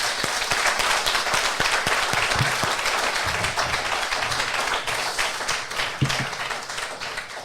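A crowd applauds a finisher at a Paris Marathon event, with steady rapid clapping and a few sharp, closer claps standing out over the dense mass of hands.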